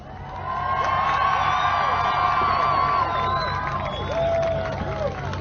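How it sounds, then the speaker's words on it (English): A large crowd at a Trump rally in Rochester, Minnesota cheers and whoops continuously, a dense roar of voices with rising shouts, loud and close throughout. "the crowd is cheering for him"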